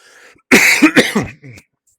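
A single harsh, close cough bursts out in a few rapid chest-rattling pulses, followed by a short throat-clearing sound, with near silence around it.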